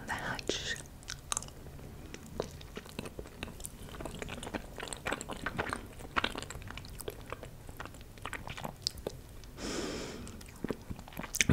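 Rainbow cake being eaten close to the microphone, with soft wet chewing and biting sounds repeating throughout, occasional breaths and quiet mouth noises, and no talking.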